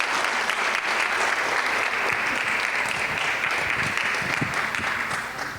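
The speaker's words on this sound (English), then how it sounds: "Round of applause for them." Audience at a graduation ceremony breaks into dense, sustained applause that holds steady and fades slightly at the end, with no talking over it.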